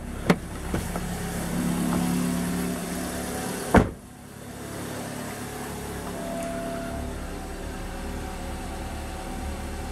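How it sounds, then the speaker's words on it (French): A Toyota Yaris engine idles at a low, steady hum just after a fuel filter change. A few sharp mechanical clicks and one loud knock break in early on, and the engine keeps running quietly afterward. "Là normalement c'est bon, le véhicule a démarré."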